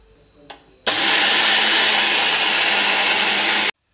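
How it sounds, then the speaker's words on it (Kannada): A mixer grinder grinding roasted gram starts abruptly and whirs at a loud, steady pitch for about three seconds, then cuts off sharply. A faint click comes before it starts. "ಈಗ ಇದನ್ನು ಸಣ್ಣಗೆ ಗ್ರೈಂಡ್ ಮಾಡ್ಕೊಳ್ತೀನಿ."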